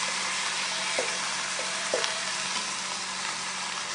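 Onions and pot roast meat sizzle steadily in a pan, a constant frying hiss with a few soft stirring scrapes and clicks mid-way, close and moderately loud with no talking.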